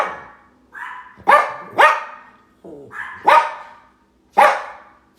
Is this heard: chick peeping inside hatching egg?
no